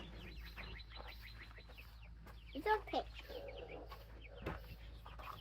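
Soft clucking from chickens nearby, with a couple of louder cackles in the middle and a brief spoken phrase over quiet background hum.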